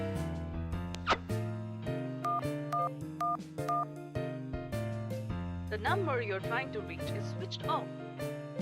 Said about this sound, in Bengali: এ বাবা, ফাইলটা একদম আনতে ভুলে গেছি, একবার ফোন করে দেখি।